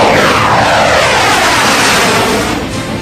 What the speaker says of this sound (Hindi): तेजस देश में तैयार हुआ लड़ाकू विमान है।